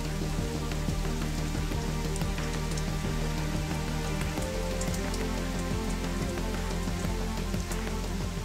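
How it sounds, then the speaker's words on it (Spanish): Steady rain falling on surfaces near Valdivia under overcast skies, a dense constant patter of drops throughout with no voices. "nos pilló la lluvia"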